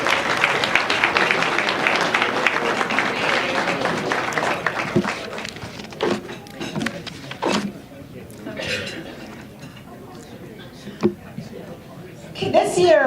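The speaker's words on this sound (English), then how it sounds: "if we could just give Pet Pals and Vets for Veterans a round of applause for all they do in our community." Applause from a crowd at a volunteer appreciation luncheon, dense and steady for about six seconds before thinning into scattered claps, with dishes and cutlery clinking and voices talking nearby.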